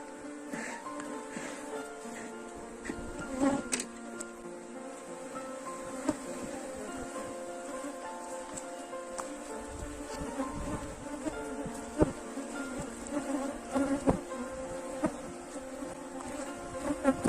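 Honeybee swarm buzzing around hive frames during a colony split, a continuous close hum with scattered louder passes of individual bees and occasional handling knocks.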